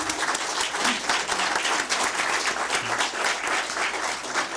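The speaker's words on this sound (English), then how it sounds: "Let's give a big round of applause" Steady, dense applause from an audience at a Calexico Unified School District board meeting, a continuous wash of many hands clapping at even loudness throughout, with no voices on top.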